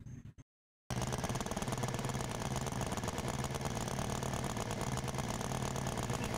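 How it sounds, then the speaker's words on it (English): A B-25 Mitchell bomber's engines fire up in an RC flight simulator game. After a brief quiet moment, a loud, steady piston-engine drone kicks in abruptly and holds without a break. "So I'm going to start one of the engines, and then we'll start both of them right now."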